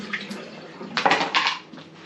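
Pasta-covered hands washed at a kitchen sink, with brief splashing of running water and a few clinks of dishes, fairly quiet and close.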